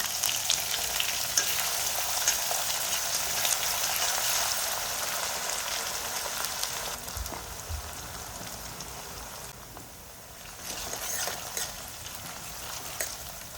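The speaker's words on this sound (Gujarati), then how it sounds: "તો આપણે એક ચમચી રાઈ એક ચમચી જીરું તલ આદુ લસણ મરચાંની પેસ્ટ કાંદા" Oil sizzles loudly and steadily, like heavy rain, as mustard seeds, cumin, sesame, ginger-garlic-chilli paste and onion fry in hot oil for a tempering for bottle gourd muthia dhokla, with a brief dip near the end.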